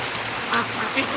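Free-range ducks out in heavy rain: two short quacks, one after the other, close by, over a constant hiss of rainfall and water noise.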